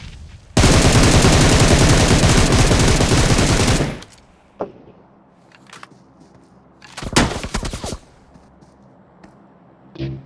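Loud, sustained automatic gunfire from PUBG Mobile bursts for about three seconds, followed by quieter scattered shots and a second short burst.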